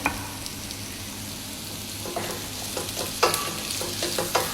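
Carrots frying in a pan of oil for a mango and carrot pickle, a steady soft sizzle with occasional stirring scrapes and clicks toward the end, close by and alone.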